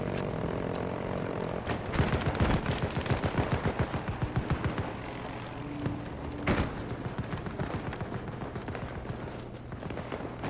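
Rapid bursts of assault rifle fire in Battlefield 2042, a 64-player Breakthrough match on the Hourglass map, crackle through steady battlefield din, with the densest volley around two to four seconds and scattered shots after.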